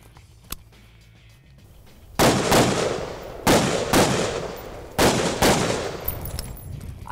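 A Stag Arms Model 3T tactical rifle fires about six sharp shots outdoors, loosely grouped in pairs with short gaps, loud and close with brief echoing decay after each report.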